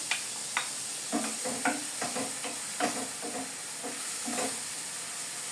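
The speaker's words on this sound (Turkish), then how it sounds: "Ben soğanla biberi beraber kavurmaya ocağa koyacağım." Onion and pepper sauté together in a pan on the stove, a steady low sizzle with repeated soft scrapes and taps of stirring, close and fairly quiet, no talking.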